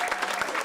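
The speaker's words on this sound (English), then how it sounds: "She gets a round of applause before she's even had breakfast" Brief burst of clapping for Congresswoman Marjorie Taylor Greene at an early-morning campaign event, a dense patter of hands filling the room at steady loudness for under a second.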